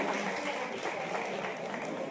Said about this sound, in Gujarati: ખૂબ તાળીઓથી વધાવજો.